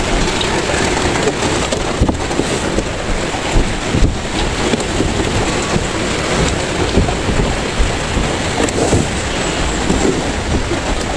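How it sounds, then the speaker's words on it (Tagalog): Rain pours loudly and steadily outside a house, with gusting wind buffeting the microphone and occasional sharper spatters throughout. "papasok yung ulan"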